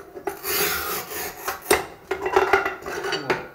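Manual tile cutter scoring a porcelain tile, giving a raspy scraping stroke with a few sharper scratchy bursts, close and fairly loud with no talking.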